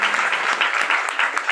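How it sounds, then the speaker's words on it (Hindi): Audience applause at a Hindi religious discourse: dense, steady clapping from a gathered crowd, loud and continuous throughout, with no talking over it. "एक बार मैया के लिए जोरदार तालियां बजाओ"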